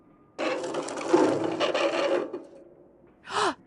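A screw being unscrewed in the Frequency Missing audio game, a sustained grinding, rasping turn of about two seconds, followed by a short squeaky creak, close and fairly quiet.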